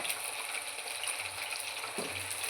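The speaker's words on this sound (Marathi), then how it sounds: "हे अगोदर याच्यातनी तळून घ्यायचं." Oil frying in a pan while preparing Bihari-style vegetable bhaji, a steady soft sizzle with faint crackle running throughout, fairly quiet and without talk.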